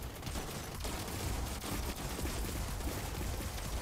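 Robot machine guns in the Gladiabots video game fire in a dense, continuous barrage of rapid crackling shots, loud and unbroken throughout.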